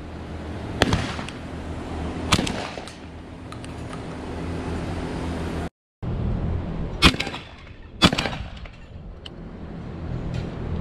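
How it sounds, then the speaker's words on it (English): A gunshot during a bird hunt rings out outdoors, a sharp loud bang with a quick decay; several more sharp cracks follow amid wind and rustling. "Bang. That was a shot."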